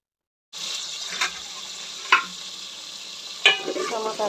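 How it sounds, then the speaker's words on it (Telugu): Tomatoes being stirred into onions frying in a pan for Andhra-style gongura chicken, a steady close sizzle broken by a few scraping stir strokes. "ఎర్రగడ్డలు బాగా వేగాయి కదా, టమోటాస్ వేద్దాం. Next tomatoes కలిపెట్టేద్దాం."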